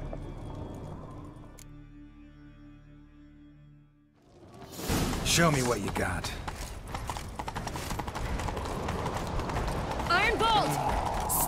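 Horse hooves galloping in The Witcher 3, a fast rhythmic clip-clop that starts after a quieter opening, carried along under rushing wind, a whinny and spoken dialogue.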